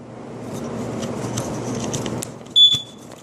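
A First Alert SA120 smoke alarm lets out one brief, sharp, high-pitched chirp near the end, after a few seconds of soft handling and rustling.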